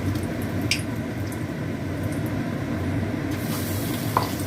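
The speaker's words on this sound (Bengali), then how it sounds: "আমি এবার একে একে এই কর্নফ্লাওয়ার আর ডিমের গোলাটার মধ্যে ডুবিয়ে আমি ভাজবো" Rolled corn balls dipped in cornflour and egg batter, frying in hot oil with a dense continuous bubbling sizzle, close and steady, with no one talking.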